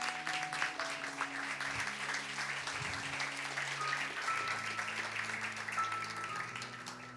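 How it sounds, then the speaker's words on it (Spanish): A church congregation claps together in applause, a dense and continuous patter of many hands heard at moderate distance. Faint tonal hums sit underneath, and no one speaks over it. "¿Cuánto le damos un aplauso a Dios por eso?"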